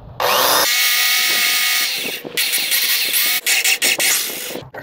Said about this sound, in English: Now we're drilling out the holes for the regulator.